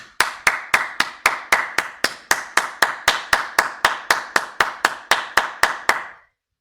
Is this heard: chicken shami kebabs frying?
no